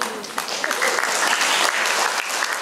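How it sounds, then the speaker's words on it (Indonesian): Loud, dense clapping from an audience at an Indonesian app launch and association inauguration event, sustained and even throughout with a faint voice or two mixed in. "Pak Pur tepuk tangannya gak tenanan."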